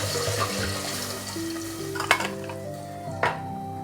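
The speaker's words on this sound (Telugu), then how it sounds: "ఇందులో వాటర్ యాడ్ చేసుకోవాలి." Water pours into a hot chicken biryani pot, hissing and sizzling up close while a resonant tone shifts as the pot fills, with a couple of sharp metallic knocks near the end.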